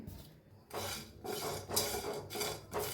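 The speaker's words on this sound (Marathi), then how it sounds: "हे बघा एक बारकी कढाई, त्याच्यात हे सगळं जे ना भाजून घेऊया आपण" Whole spices tipped into a small kadhai for dry roasting, rattling and scraping against the metal in several bursts with short pauses, close by, no voices.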